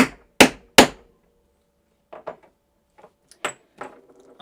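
A small hammer taps holes into embroidered Christmas bunting: three sharp, loud knocks in quick succession, then a quieter run of lighter taps and knocks spread out over the next few seconds, with no talking.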